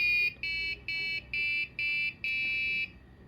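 An electronic buzzer on an RFID and servo lab setup sounds after a card is tapped, giving six close, even beeps in a steady rhythm, the final one held longer.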